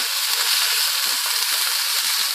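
Boiled corn kernels sizzle in a frying pan with mushrooms, a steady, close, loud hiss of frying with faint stirring pops, no voices.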